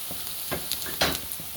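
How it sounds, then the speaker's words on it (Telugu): Sliced onions fry in hot oil in a pan, giving a close, crackling sizzle with a few scraping stirs across a short moment. "ఈ కొంచెం ఫ్రై అయినాయి కదా ఆనియన్స్"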